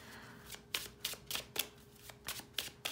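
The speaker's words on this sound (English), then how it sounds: "So interesting to shuffle with your eyes closed." Tarot cards riffle and snap in a quick shuffle, about eight crisp bursts in an uneven rhythm, close and clear with no voices.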